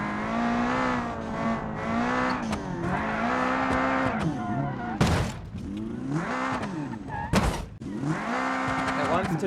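A car in the video game Automation slides and drifts, engine droning steadily with sharp tire squeals and two sudden loud screeches, while someone talks over the noise.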